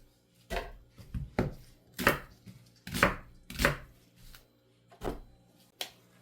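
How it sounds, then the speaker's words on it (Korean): A knife dices radish into cubes for kkakdugi, about a dozen crisp, close chops striking a board in an uneven rhythm. "깍둑 썰기로 해서 넣어주세요."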